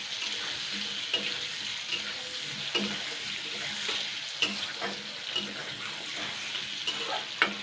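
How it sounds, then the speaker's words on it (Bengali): Tomatoes and green chillies fry in a pan for tomato pickle, with a soft, steady sizzle and regular scraping stirs from a spoon; a voice talks faintly in the background. "এবার আমি টমেটো আর কাঁচা লঙ্কাটা কিন্তু দিয়ে দিচ্ছি। এটাকে জাস্ট আমি 2 মিনিট নাড়াচাড়া করে নেবো"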